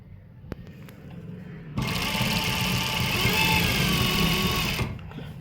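A sewing machine stitches below the elastic on a trouser waistband, giving a steady, close, high-pitched mechanical whirring run of about three seconds after a few soft clicks.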